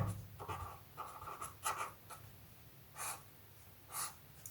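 Chalk or marker scratches across a board in short, quiet bursts during a lecture, faint strokes and taps coming in irregular clusters with pauses between them.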